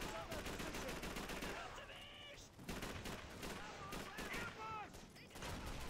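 Gunfire in the video game Call of Duty 3, with rapid crackling shots and bursts under someone talking excitedly throughout, with a few short gaps in the firing.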